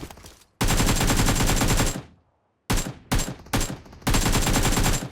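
Loud automatic gunfire in a shooter video game, fired in long rapid bursts separated by short pauses, close and dominant with almost no talk over it.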